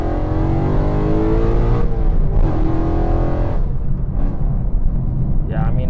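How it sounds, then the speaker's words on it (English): A BMW E92 M3 engine revving hard while parked, several loud, rising blips that fall back toward idle between them, close to the microphone. "let's give it some revs"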